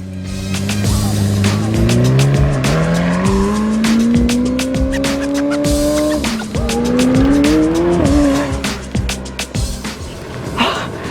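A McLaren sports car roars as it accelerates hard, its engine pitch climbing through gears while tires squeal loudly, with sharp clicks and knocks throughout.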